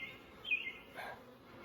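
A steady, buzzing drone of many honeybees in an open, newly started hive during an inspection, close and moderately loud, with a brief rising whine as one flies past.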